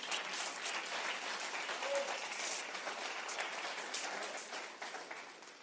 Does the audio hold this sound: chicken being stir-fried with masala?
no